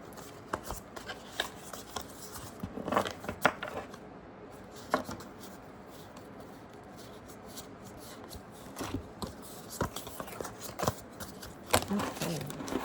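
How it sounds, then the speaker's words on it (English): Tarot card decks shuffled and handled during setup for a reading, giving soft papery riffles and rubbing in scattered bursts of uneven length, close and fairly quiet, with brief low talk in places. "I'm shuffling and organizing the decks while we kind of set up."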